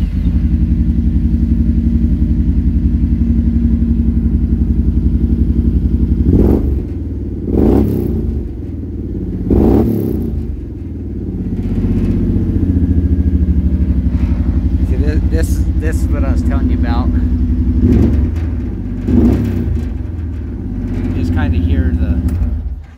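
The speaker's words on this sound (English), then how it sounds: "That Trinity Stage 5 dual exhaust, it's a true equal length dual exhaust for this Teryx engine." A loud Kawasaki Teryx-4 UTV engine with a Trinity Stage 5 equal-length dual exhaust idles with a deep rumble, then revs sharply several times in short bursts, with clattering and a voice talking in between.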